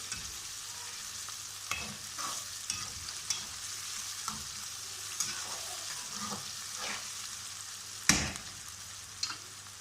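Onions and ginger-garlic paste sizzle steadily in a hot pan while a spoon scrapes and stirs now and then, with a sharp clank near the end.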